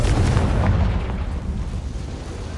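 Fiery Confringo spell explosion in the Hogwarts Legacy video game, a loud, deep booming blast that rumbles on and slowly fades over a couple of seconds.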